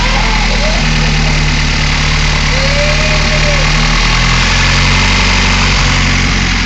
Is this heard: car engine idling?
yes